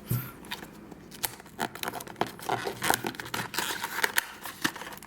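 Scissors cutting and tearing open plastic packaging on a Cardcaptor Sakura card game trial deck and booster box, with crisp snips and crinkles coming close and irregular.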